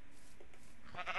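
A sheep in the video game Minecraft gives a short bleat near the end, over a quiet steady background with no talking.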